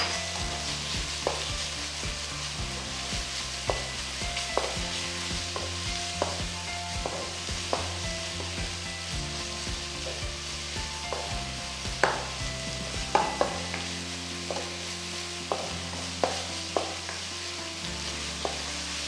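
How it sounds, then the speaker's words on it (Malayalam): Chicken with tomato sauce and pepper powder sautéing in a pan for teriyaki chicken bao buns: a continuous close sizzle with repeated spatula scrapes and taps throughout, no voices, with musical tones underneath. "ചിക്കൻ നന്നായിട്ട് കുക്കാവുന്ന വരെ സോട്ട് ചെയ്യുക."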